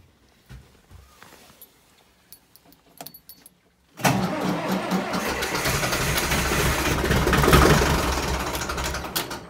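An engine cold-starts: after quiet clicks and small handling noises, it catches abruptly at about four seconds and settles into a loud, steady, close running rumble that swells slightly near the end.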